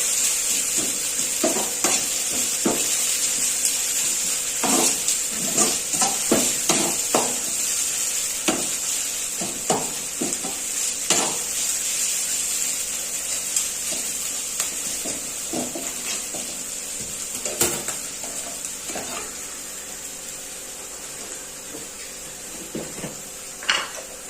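Onions fry in a pan with a soft ongoing sizzle while a spoon stirs and scrapes in irregular bursts, close and fairly loud, during village-style home cooking with no voices.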